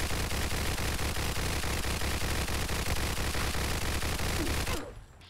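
An American 180 .22 submachine gun with explosive rounds in Fallout 4 fires a dense, continuous stream of loud crackling shots, then cuts off abruptly near the end.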